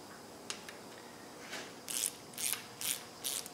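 A ratchet clicks in four short, close bursts while engine bolts are tightened to 10 newton metres during a Land Rover 300Tdi engine rebuild, with quiet pauses between strokes and no talking.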